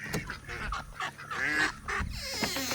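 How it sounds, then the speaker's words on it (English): Farmyard ducks call loudly and insistently, wanting to be fed, with repeated honking quacks overlapping one another nearby. "the ducks are yelling at me. They want to be fed."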